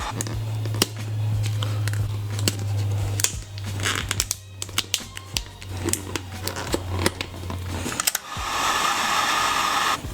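A heat gun warms vinyl wrap over the shifter bezel of a 2015-2017 Subaru WRX, giving a steady close blower hum with scattered clicks and crinkling handling noises. The hum cuts out near the end, leaving a brief hiss.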